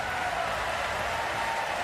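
Audience in the Paris 2024 Paralympic para table tennis arena applauding a player before a standing singles gold medal match, a dense, even wash of clapping that holds steady throughout.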